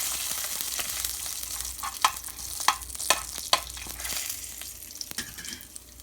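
Cumin, urad dal and chana dal fry in hot oil with a continuous close sizzle, punctuated by a few sharp pops and crackles and faint stirring scrapes as the spices toast.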